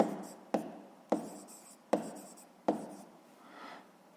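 Pen writing numbers into a table on paper during a sixth-grade maths exercise, four sharp taps of the pen as marks are set down, each followed by a soft scratching stroke, close and quiet with no voice.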